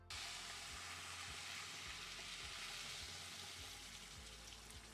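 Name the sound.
boiling water sizzling as it is added to toasted rice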